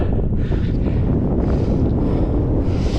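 Steady, roaring wind buffets the microphone on an exposed fell top in the northern Lake District, a constant low rumble with gusty swells throughout and no voices.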